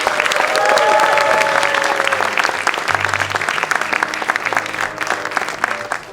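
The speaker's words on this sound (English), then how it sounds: "can we have one more tremendous round of applause for our special guests, Mr. Brian Lee and Mr. Cal Clutterbuck?" An evening stage show audience gives a full round of applause for special guests, with dense, loud, steady clapping and some crowd noise that eases slightly toward the end.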